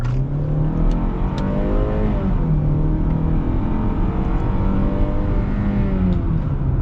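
A 2024 Hyundai Tucson XRT accelerating in sport mode, heard from inside the cabin as a loud, steady engine drone that climbs in pitch, drops at a gearshift, and climbs again over road noise.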